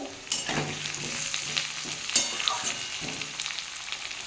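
Malabar spinach stems frying in a pan for a fish-head curry, a crackling sizzle broken by repeated scraping stirs and light knocks, close and fairly loud.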